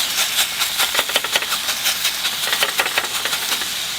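Meat searing in a very hot pan, a loud, dense sizzle and hiss with crackling spits, steady and close throughout, no talking.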